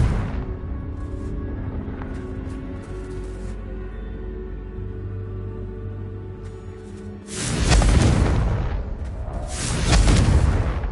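Two loud, booming Confringo blast explosions from the game Hogwarts Legacy, the first about two-thirds of the way through and a second soon after, rumble over a steady bed of background game music.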